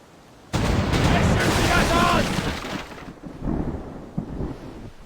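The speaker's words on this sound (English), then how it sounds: "We're under gunfire!" Booming cannon-like gunfire erupts in a pirate video game, a loud sustained blast that fades into rumbling aftershocks and a few further thuds.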